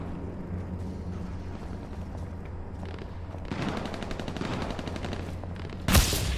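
Sniper rifle gunfire in a free-for-all video game match, faint bursts of rapid shots under a low ambient hum, ending with one sharp louder crack near the close.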